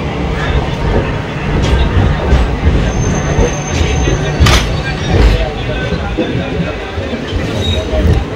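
The Ratnachal Express runs on rails out of Visakhapatnam, a loud steady rumble of wheels and carriage rattle heard from inside the train, with brief sharp clacks and squeals over the continuous roar.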